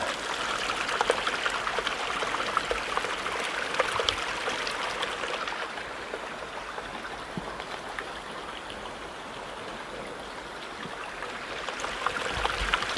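A stream tumbles down from a waterfall in the Utah backcountry, a steady close splash and trickle that softens a little midway before building again, heard alone without voices.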